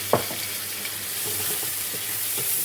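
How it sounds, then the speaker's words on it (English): Onion and cumin seed stir-fry in fierce hot oil, giving a steady hiss broken by a few light knocks of the stirring utensil against the pan. "keep on stir frying, reduce the heat as it's quite fierce at the moment"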